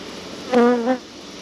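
A single short, close buzz from a honey bee flying at an open beehive during an inspection, rising briefly out of a faint steady background.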